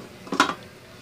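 A lid goes onto a pot of milkfish tamarind soup boiling on the stove. One short metallic clatter and clank of pot and lid, close and fairly loud, then quiet.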